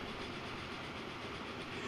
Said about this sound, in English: close out this uh, episode uh, riding on the train